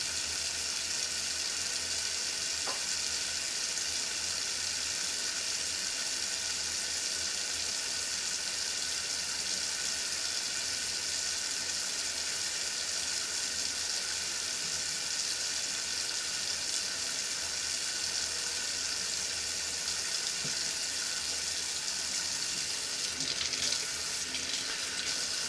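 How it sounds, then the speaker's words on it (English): Hot water streams steadily from a tap into a bowl, a constant bright hiss of flow running unbroken and close, with no talking over it. "wait till the water gets nice and hot. And then we're going to fill up this bowl here with the water"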